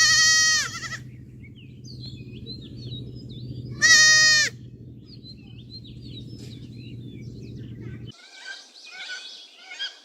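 Goat bleats twice, loud and close, as two short wavering cries separated by a few seconds over a steady low farmyard hum, with bird chirps in between and after.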